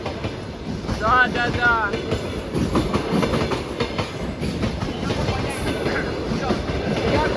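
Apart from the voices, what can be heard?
train passing on railway tracks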